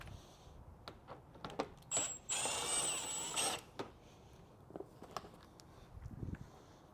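Allen and Phillips screws, including a 4mm Allen, come out of the fairing covers on a BMW K100 cafe racer motorcycle. Scattered clicks and taps surround a single sustained whirring burst of a powered driver, with no talk.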